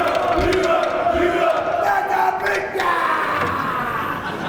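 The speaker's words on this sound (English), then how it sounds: "The crowd trying to put a little energy into the European corner." At the 2010 Mosconi Cup pool match, spectators in the European corner shout and cheer in a sustained, energetic rumble of massed voices.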